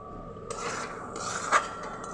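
A poppy seed and sesame mixture stirred in a pan, giving quiet scraping and rubbing with a faint metallic clink partway through.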